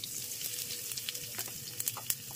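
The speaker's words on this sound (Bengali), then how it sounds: "এইবারে কিছু গোটা জিরে ফোড়ন দিলাম, সঙ্গে ওই 2টো মতো শুকনো লঙ্কা দিয়ে দিলাম ফোড়নে।" Whole cumin seeds and a couple of dried red chilies tempering in hot oil, a quiet crackling sizzle with scattered pops and small spits, close and without talk.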